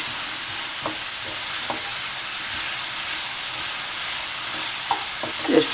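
Vegetables fry in a pan for żurek soup, a loud, even sizzle that holds steady throughout, with a few soft clinks of stirring near the start and a couple of louder knocks at the end.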